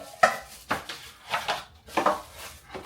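Ceramic baking dishes, round and square pans, are lifted out of a box in an apartment, giving four separate hard clatters and scrapes, close and fairly loud, with no talk.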